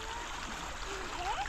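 Steady rushing water fills the clip, a continuous broad wash like a strong river current, close and even throughout.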